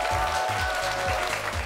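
Applause from a lecture audience welcoming two speakers, moderate clapping mixed with a sustained tonal hum and low rhythmic pulses underneath.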